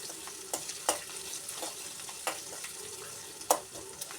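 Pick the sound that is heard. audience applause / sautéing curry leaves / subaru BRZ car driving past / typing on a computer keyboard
sautéing curry leaves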